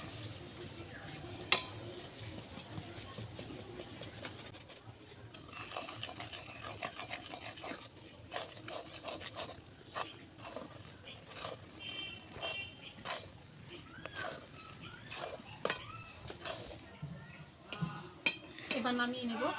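Rice flour dough for kadam flower pitha being mixed in a bowl, heard as scraping and rubbing with clinks of a utensil against the vessel, intermittent across the clip, with light room noise and occasional speech.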